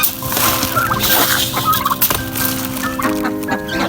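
A noisy flock of poultry including ducks calling over one another, with busy overlapping gobbles and clucks, close and continuous throughout.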